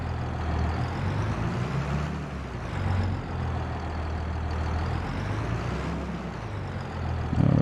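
A 32-year-old tractor with a CVT transmission runs in Farming Simulator 22, a steady low engine drone that holds an even level throughout and swells slightly at the end, with no talking.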